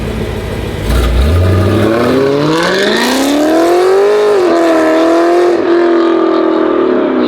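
A BMW E9X M3 S65 V8 revs hard and climbs in pitch, its ECS Tuning valved exhaust roaring loudly, then settles back with a few crackling pops near the end.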